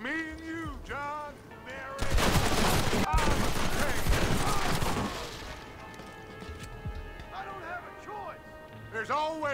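Gatling gun fire in the video game Red Dead Redemption erupts as a dense burst of rapid shots lasting a few seconds, with voices talking before and after it.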